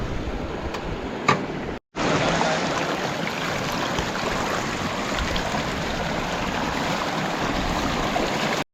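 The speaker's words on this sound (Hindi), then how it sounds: "ये पंचक्की पानी से चलने वाली, अभी शायद इसमें थोड़ा पंगा आ गया।" A water-powered panchakki mill beside a mountain stream in the Spiti Valley, with steady rushing water and faint rhythmic ticking after a brief cutoff near the start, close and constant with no voices.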